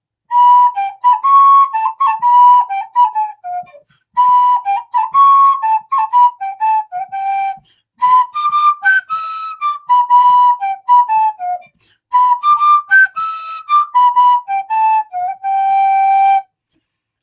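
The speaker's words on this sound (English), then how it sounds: "she had a very old whistle. It's made out of wood." Tune played on a very old pear-wood whistle, about 700 years old: clear, bright melodic phrases in four sustained passages with short pauses between, close and solo.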